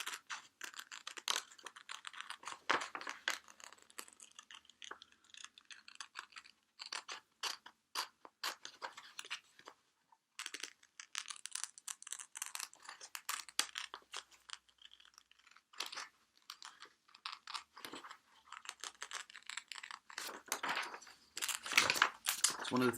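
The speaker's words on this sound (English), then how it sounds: "I'm going to use the scissors for this." Scissors cutting out paper images, a close, steady run of crisp snipping and rustling clicks with short irregular pauses, continuing under occasional speech.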